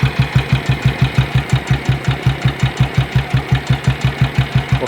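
A 1956 BSA BB31 vintage motorcycle engine running at idle, close and loud, with a steady, even single-cylinder thump repeating several times per second.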